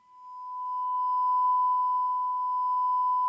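A steady pure tone plays from a phone speaker aimed down a resonance column tube. The single sustained note swells in loudness over the first second and then holds evenly, clear and alone.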